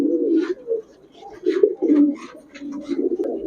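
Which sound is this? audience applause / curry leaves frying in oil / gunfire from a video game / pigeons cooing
pigeons cooing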